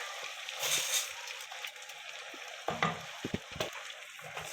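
Rice tipped into a pot of sausage pilau gives a brief rushing sizzle, followed by scraping, knocking stirring strokes against the pot.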